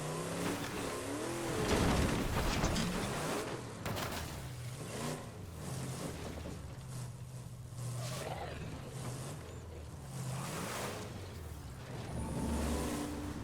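Muscle car engine in the zombie survival game State of Decay 2, a steady loud roar with rising and falling revs throughout, holding a low drone under mixed game sounds.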